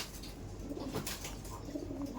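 Kaldom pigeons in a loft, including a large, high-quality female, give soft rolling coos over a busy, noisy background, with a few wing rustles.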